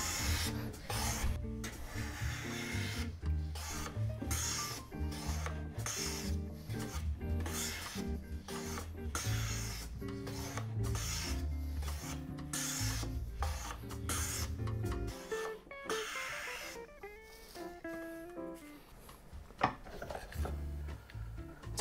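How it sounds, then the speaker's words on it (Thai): Hand plane shaving a factory-sawn wood surface to smooth out saw marks, a run of steady rasping strokes in regular rhythm, close and fairly loud, quieter scraping toward the end. "โดยการสายกบแค่ไม่กี่ครั้งเองนะฮะ"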